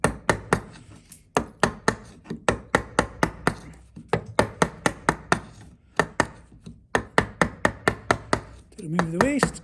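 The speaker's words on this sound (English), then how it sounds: "bevel edge chisel" A bevel edge chisel chops waste wood in quick bursts of sharp, close knocks, about twenty blows with short pauses between groups, and a voice speaks briefly at the end.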